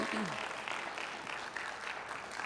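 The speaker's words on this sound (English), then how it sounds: "clap up, clap up, clap up." An audience applauds at a national poetry slam semi-final, a dense, steady wash of clapping filling the room throughout, with a voice briefly audible over it.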